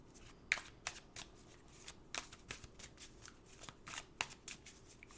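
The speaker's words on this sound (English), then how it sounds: "I'm going to pull some cards from the Hustle" A tarot deck is shuffled by hand, close and quiet, with soft riffling swishes and light card taps in an uneven rhythm and no voices.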